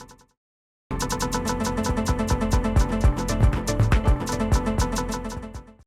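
After a short silence, a dense granular-synth loop of a sample kicks in, its texture shifting and stuttering as knobs are tweaked, steady and fairly loud without speech.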